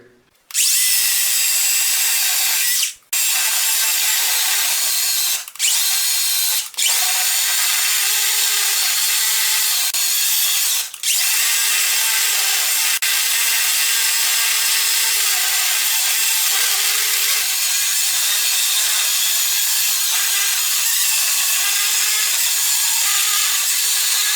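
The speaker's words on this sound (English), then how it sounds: "just going to whittle off all four corners with this Black & Decker 40-volt chainsaw" A loud, steady Black & Decker 40-volt battery chainsaw grinds continuously through solid walnut wood, trimming corners, with a few brief dips in the cutting before it runs on unbroken.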